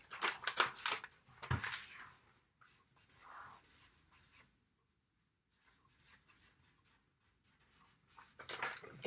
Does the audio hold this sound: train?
no